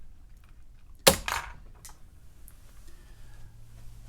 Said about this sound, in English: she fired back with the cannon